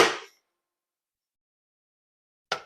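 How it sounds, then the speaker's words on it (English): Chopped onions go into a kitchen food chopper with two brief, sharp clanks, the first at the start and the second after a long silence. Both are fairly quiet and close. "Now we're going to put them in our chopper."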